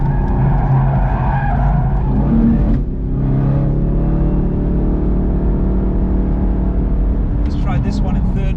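A Camaro ZL1 1LE sliding its rear end through a slow third-gear corner on a race track: a loud, sustained engine drone with tire scrub, the pitch shifting as the car slides and recovers.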